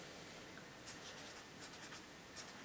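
Pen writing on paper while working through a cable volt-drop calculation, faint soft scratchy strokes in short bursts over a quiet background, no talking.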